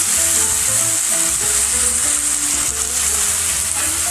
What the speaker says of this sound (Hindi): टमाटर को भी 2 मिनट तक प्याज के साथ अच्छे से फ्राई करेंगे।